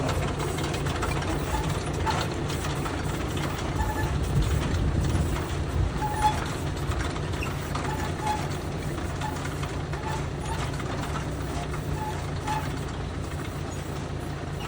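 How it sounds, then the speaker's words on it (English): A Spapperi weeder with two spinning rotors, pulled by a John Deere tractor through a cauliflower field, gives a steady, continuous mechanical rumble and clatter with a tractor engine drone throughout. "There's two little rotors spinning around, and the guys are guiding it with hydraulic, two little levers, and they're on a hydraulic ram"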